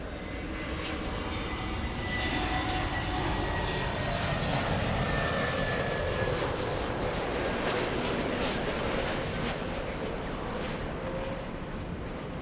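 A JetBlue jet airliner taking off from runway 24 left, its engines a loud, steady, sustained roar that holds evenly throughout, with no talk over it.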